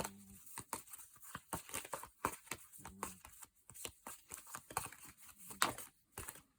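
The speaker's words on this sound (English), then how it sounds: "Let's shuffle one more." A deck of cards is shuffled in quick rapid bursts of riffling and flicking, close and fairly quiet, with short pauses between runs.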